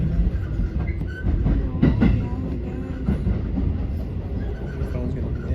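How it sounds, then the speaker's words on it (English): A JR train rolls between Osaka and Nara, a steady, loud rumble with rattling carriage noise and occasional clicks and squeals of the wheels, heard from inside the car with no speech. "So the train is just here right there."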